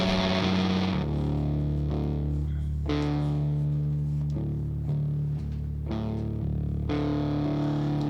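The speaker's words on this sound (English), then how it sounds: "Mega fuzzy tones." A heavily fuzzed, distorted electric guitar plays sustained chords that change every second or so, thick and buzzing with long sustain.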